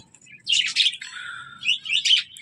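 Pet budgerigars chirp and chatter in quick, high warbling bursts, fairly close and lively, with no voices present.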